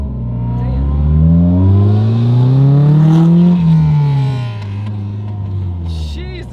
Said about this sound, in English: Ooh, is that a Ferrari?